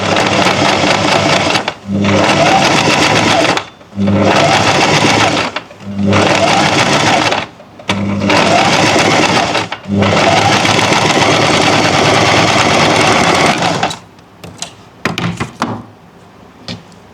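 Sewing machine stitching a neckline in fabric, running in loud bursts of about two seconds separated by brief pauses, then a longer run before it stops, followed by a few quiet clicks and handling noises.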